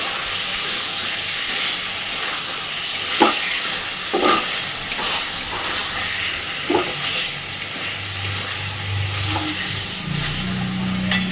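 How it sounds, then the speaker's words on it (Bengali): Spices sautéing for dhaba-style chicken curry, a steady close frying sizzle and hiss with occasional scraping stirs, no talk. "এই মশলাগুলো দেওয়ার পরে আবারও খানিকক্ষণ ধরে কষাতে থাকবো"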